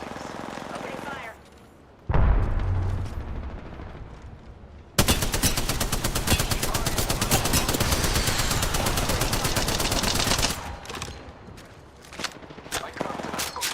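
Automatic gunfire and explosive weapon blasts in the Apex Legends battle royale shooter, with dense, loud sustained bursts after a few seconds of quieter game noise and an impact, and sporadic shots near the end.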